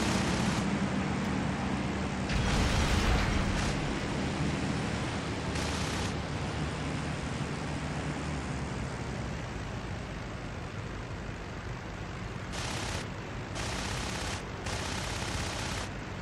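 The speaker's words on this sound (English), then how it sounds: "Whoa, and open up with the cannons." A Spitfire's cannons fire in the IL-2 Sturmovik: Battle of Stalingrad flight game. Rapid gunfire bursts break out several times over a constant engine roar, with no talk.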